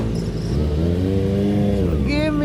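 A Yamaha Aerox scooter revs up close in traffic, its engine note rising and holding steady before climbing again, with voices chattering over it.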